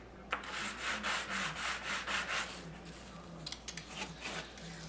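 Sanding an N scale model building part by hand: a run of about nine rhythmic rubbing strokes, close and fairly quiet, followed by a few lighter, shorter swipes, with no talking.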